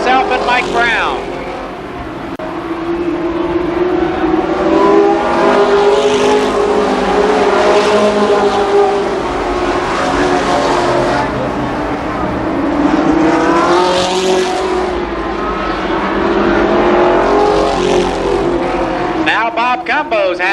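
Sprint cars race around the Columbus Motor Speedway oval, their engines a loud, continuous roar that rises and falls as the pack passes, with a commentator talking over it throughout.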